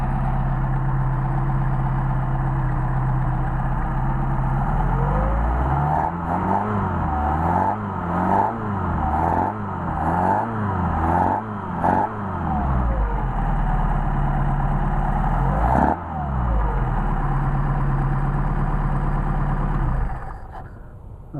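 A Mercedes 190SL engine on a set of Solex carburetors idles smoothly and steadily at about 800 rpm, close up, with a stretch of rising and falling revs in the middle before settling back to an even idle.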